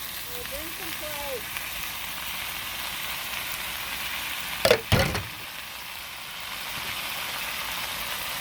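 Sauce is poured into a patio stir fry and the pan gives a sudden loud sizzling burst over a constant frying hiss, with a short speaking voice just before.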